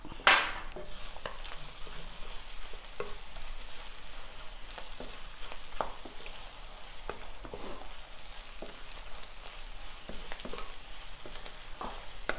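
Beef ularthiyathu sizzles in a pan with added masala, a soft steady frying hiss broken by sharp scrapes and clacks as the meat is stirred.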